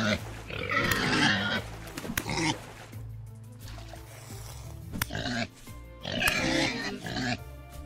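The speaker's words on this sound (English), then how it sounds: "Angry pig, no." An angry pig in the Vintage Story survival game grunts and snorts in several rough bursts, loud and close, with short pauses between them and game ambience underneath.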